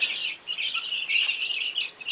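Young pullet chicks cheep in a steady stream of high, overlapping peeps, close and fairly loud, with no talking.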